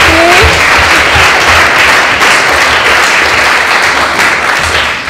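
Roaring applause from a conference audience in Hamburg as a speaker, the host and managing director, is called onto the stage. Dense, sustained clapping fills the whole stretch at a loud, steady level and eases slightly at the very end.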